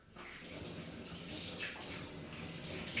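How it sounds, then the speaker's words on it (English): Tap water runs steadily as hands are washed at a kitchen sink, a continuous broadband rush with slight shifts in intensity, close and moderately loud, with no talking. "let me wash my hands again"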